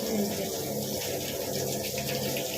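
Running water from a tap rinses the roots of a plant, a steady broad splashing flow close by with no talking.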